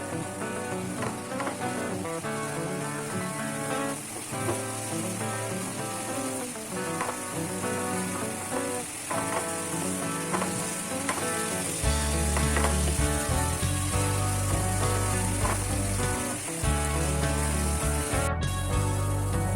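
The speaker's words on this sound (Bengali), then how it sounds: "ফ্লেমটা কিন্তু হাইতে দেব দিয়ে এটা একটু ভাজা ভাজা করে নেবো" Continuous loud sizzling of pointed gourd frying in hot oil on high flame, with intermittent scraping of a spatula stirring the pan throughout.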